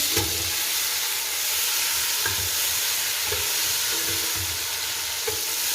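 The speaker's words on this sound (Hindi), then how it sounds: "टमाटरों को हम अच्छी तरह से पकाएंगे जब तक ये अच्छी तरीके से नरम ना हो जाए" Finely chopped tomatoes fry with golden-brown onions in a pot for beef biryani, a loud, steady sizzle and hiss with slow, regular scraping stirs roughly every second.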